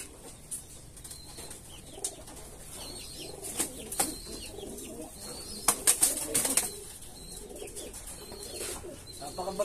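Pigeons coo softly in a loft, low murmuring calls repeating over steady background noise, with a few sharp chirps and a flurry of wing flaps near the middle.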